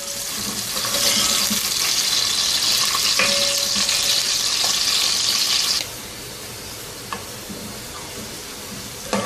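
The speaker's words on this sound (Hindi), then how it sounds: "अनियंस को हम गोल्डन फ्राई करेंगे।" Onions frying golden in hot oil for a Pakistani chicken pulao, a loud steady sizzle that drops slightly in level partway through, with occasional clinks.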